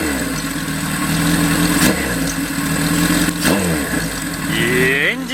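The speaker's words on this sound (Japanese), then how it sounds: "いいエンジン始動もバッチリですね。" A Kawasaki Z1 motorcycle fitted with a Tokyo steel-pipe muffler starts up and settles into a loud, close, throbbing idle, with a couple of revs and a voice briefly heard near the end.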